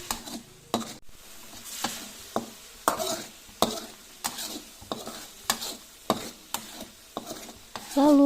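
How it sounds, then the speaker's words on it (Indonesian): Ground shallot and garlic paste sautés in a little oil, with a spatula scraping the pan in quick, regular strokes about once a second over a low sizzle. The sound is close and nobody speaks. "panaskan minyak sedikit untuk menumis, masukkan bawang merah dan bawang putih yang sudah dihaluskan."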